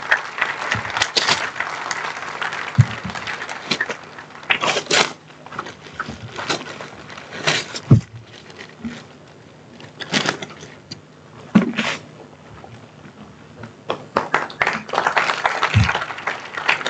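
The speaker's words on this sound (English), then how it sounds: "I request all present to kindly give them a huge round of applause" Guests at a conference souvenir release clap unevenly in loud bursts with quieter gaps between them, with some shuffling and knocks in the hall.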